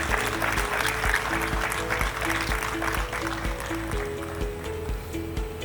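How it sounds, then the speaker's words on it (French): A crowd applauds steadily at a shopping mall inauguration ceremony, with dense, sustained clapping filling the space over a faint low background hum. "Est-ce qu'on peut l'encourager par des applaudissements?"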